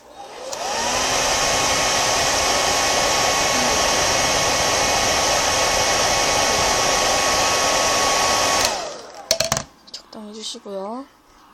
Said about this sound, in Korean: 다시 드라이기로 말려줍니다